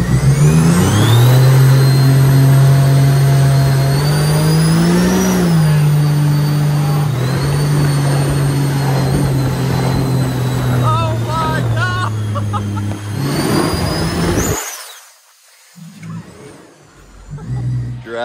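Supercharged mini jet boat engine roaring loud and close with a steady high whine and slight pitch swells, holding for about thirteen seconds before cutting abruptly, leaving water and wind noise.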